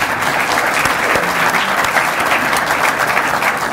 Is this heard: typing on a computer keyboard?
no